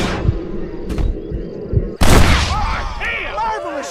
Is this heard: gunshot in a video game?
yes